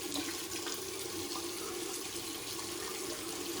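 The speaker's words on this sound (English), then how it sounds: "I'm going to put a bit more water on the top." Water runs from a tap while a shaving brush is loaded, giving a steady, fairly quiet hiss of flow from start to end with no talking.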